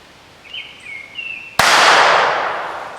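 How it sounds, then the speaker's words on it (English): A single sharp, loud shot from a .22 caliber derringer pistol cracks out after a second and a half of quiet, followed by a long hissing, fading echo. "That cannon you just heard is a 22 caliber derringer."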